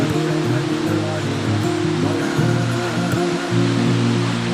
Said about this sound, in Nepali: यहाँ यस्तो पानीले छापिरहेको छ